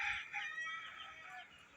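Laying hens at a farm cluck together in a continuous, overlapping chorus, fairly close and moderately loud, with one longer crowing-like call early on and no voices.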